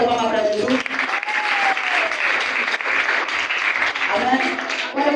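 Church congregation at a testimony service breaks into loud, continuous applause offered to Jesus, with a voice talking over the clapping throughout.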